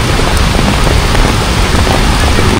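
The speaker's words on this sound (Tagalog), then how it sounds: "Grabe, lakas na naman ng ulan" Heavy rain pours down on a street in Ermita, Manila, a steady, dense roar of downpour that stays loud and unbroken throughout, with no voices.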